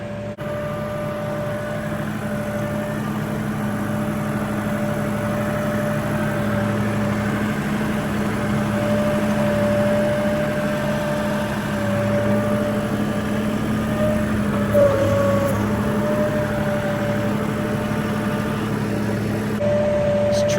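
A small 47-horsepower farm tractor engine idles steadily with a low, constant hum and drone, close by and unbroken, with no voices.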